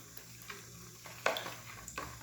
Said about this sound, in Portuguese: aqui eu vou mexer pra eles poderem misturar um pouquinho